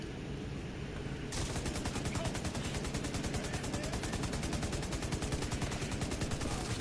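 The Headline Grabber gun fires nonstop in a video game, a rapid, steady stream of shots that holds loud and constant throughout.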